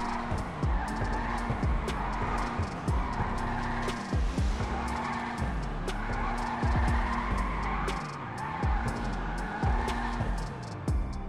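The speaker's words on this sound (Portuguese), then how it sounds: "eu não sei se é eu que não sei fazer drift ou os carros que estão deslizando demais" An Annis Euros, a tuned Nissan 370Z, drifts in GTA 5 with repeated looping tire squeals and skids over a loud, droning engine. The car slides rhythmically in circles, close and continuous.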